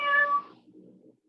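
A person imitates a cat with one short, clear meow during a cat-cow stretch in a Pilates class, followed by a brief low murmur.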